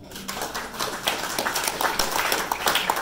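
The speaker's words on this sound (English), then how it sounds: "another round of applause for Jeff" An audience applauds Jeff at a concert, a dense, steady wash of clapping from a mid-sized crowd with a brief voice near the start, sustained at a moderate level throughout.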